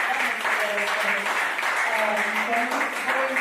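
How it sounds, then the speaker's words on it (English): Audience applause at a book-festival breakout session, a steady patter of clapping sustained for a few seconds with some tonal voices or ringing mixed in. "Please clap for him."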